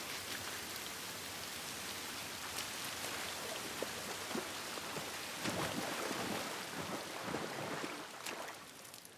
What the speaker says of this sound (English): at least we're out of the rain